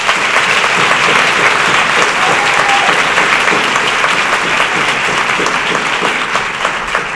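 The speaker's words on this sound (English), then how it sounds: "Please give them a round of applause." Audience applause at a community gathering in Coatesville, Pennsylvania, a dense, loud, steady wash of clapping that holds evenly for about seven seconds and eases slightly at the end.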